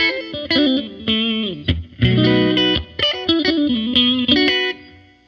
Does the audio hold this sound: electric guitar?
yes